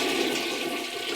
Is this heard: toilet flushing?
yes